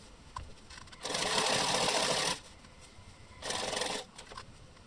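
A sewing machine stitches boxer shorts panels together along a 1.5 cm seam, running in two steady whirring bursts of about a second each with quiet pauses between, close up with no talking.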